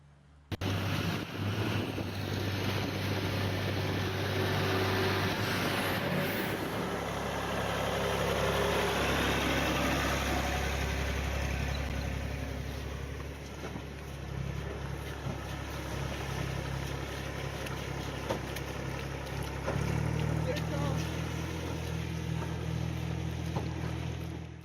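A tractor engine chugs steadily at close range while recovering a rally car off a stage at an ARA season-finale rally, a continuous low drone with gusts of wind buffeting the microphone.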